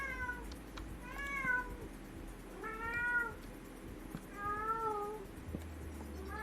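Four insistent meows from a pet cat come at roughly one-and-a-half-second intervals, nearby and fairly loud, each a rising then falling wail over a quiet room hum.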